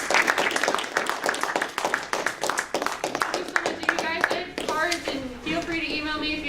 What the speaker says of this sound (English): how about a round of applause for the speaker?